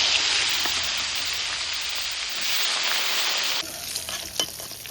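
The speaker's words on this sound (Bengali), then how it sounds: "বেগুনগুলো ভেজে নেব।" Eggplant slices fry in hot oil in a village kitchen, giving a steady, loud broadband sizzle that continues throughout, easing slightly near the end with a few sharper crackles and pops.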